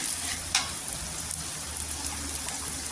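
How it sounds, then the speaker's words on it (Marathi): Chopped onion frying in oil for a spicy sev bhaji, a steady crackling sizzle with soft popping throughout, one sharper spatter near the start, fairly close and heard alone without talk. "कांदा छान असा गोल्डन कलरवर छान असा सोनेरी रंगावर आहे ना छान असा तेलावर परतून घ्यायचा"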